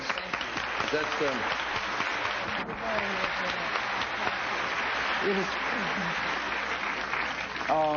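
Studio audience at a television game show breaks into sustained applause, a dense wash of clapping that holds steady for several seconds while a voice speaks faintly beneath it.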